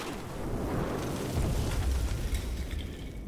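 A grenade detonates in the video game Battlefield 4, a loud, sustained rumbling blast with heavy low-end boom that swells midway and rolls on for several seconds.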